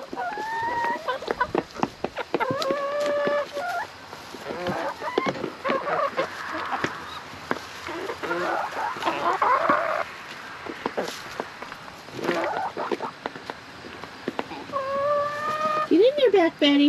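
Backyard chickens clucking in an excited frenzy, repeated squawks and clucks near and loud, mixed with a person talking over them throughout.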